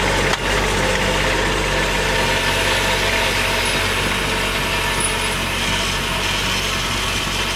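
A Kubota B2601 compact tractor's diesel engine runs steadily at a constant throttle, a loud continuous rumble with mechanical clatter, close and unbroken throughout.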